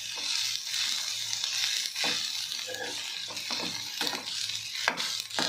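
Finely chopped bitter gourd (karela) fries in oil in a pan while being stirred: a continuous hissing sizzle with occasional scraping clicks, fairly close and steady.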